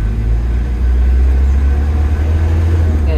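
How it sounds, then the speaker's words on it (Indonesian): A 1994 Phanter car engine on a test drive, a steady low rumbling drone that holds loud and constant throughout with no talking. "Kita tambah gas lagi."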